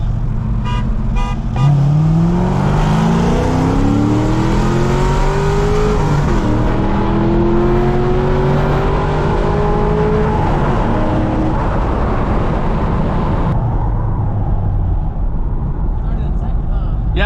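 A C5 Corvette Z06 engine revs hard and climbs through rising pitch as it launches and accelerates, loud and close, before the noise drops away near the end.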